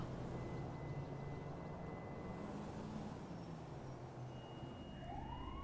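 Ambulance siren from the GTA V video game, a faint electronic wail under a low steady engine hum, rising and sweeping near the end.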